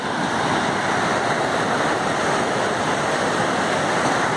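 Sea waves surge over the seafront in Itapoá, Santa Catarina, a loud, continuous broadband roar of churning water and spray that holds steady throughout, with no voices.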